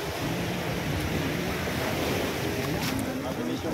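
Sea waves washing onto a beach at San Juan, a steady broadband surf roar with wind buffeting the microphone throughout, loud and continuous, with faint voices mixed in.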